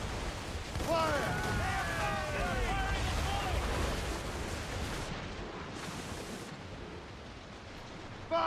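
Ship cannon and mortar fire in a naval battle in Assassin's Creed Rogue, heavy rumbling booms under rushing sea and wind, with shouting voices and a brief dropout before the noise returns.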